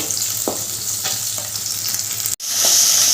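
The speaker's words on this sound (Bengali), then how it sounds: "এবার একটু এপিটোপিট করে ভালো করে ভেজে নেব" Tengra fish sizzle loudly in hot oil, with a few soft scraping stirs and a brief cut before the frying hiss resumes, brighter and stronger.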